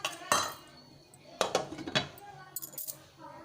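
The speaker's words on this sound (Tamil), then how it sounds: "இப்போ மூடி போட்டு நம்ம மூடி வச்சிடலாம்" A metal lid is set on a cooking pot of chana dal simmering for burfi, giving a few sharp clinks and clattering knocks close by, with quieter rattles between them.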